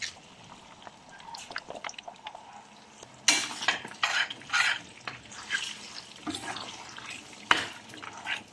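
Fried hotdog pieces are stirred with spaghetti sauce in a pan: scraping and clinking of a utensil against metal in irregular bursts over a soft sizzle, growing louder partway through.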